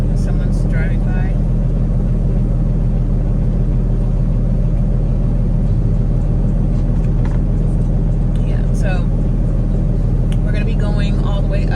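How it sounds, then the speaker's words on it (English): A car driving by on a highway, heard as a steady loud road rumble and engine hum throughout, with a person talking over it. "So someone's driving by."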